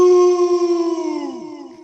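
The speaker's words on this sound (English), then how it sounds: "That's my dog." A dog howls in one long, loud, sustained tone that slowly falls and fades over about two seconds, with no voices over it.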